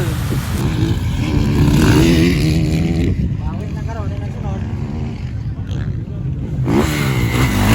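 Kawasaki 450 motocross motorcycles racing in an expert-category event, engines revving and buzzing loudly as they pass, with a commentator talking over the constant engine noise.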